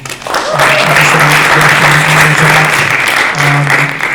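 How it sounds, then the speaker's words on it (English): Sustained applause from an audience after a presentation at a community arts event, steady and loud for about four seconds, with a voice calling out briefly over the clapping. "Can you give a round of applause to that?"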